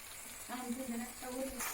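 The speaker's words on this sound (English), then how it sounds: "So give it a nice stir. Mix and combine everything well." Fried cauliflower being stirred into gobi Manchurian gravy over a low flame, heard as a faint, soft sizzle with gentle stirring for a brief moment, close by, with no talking.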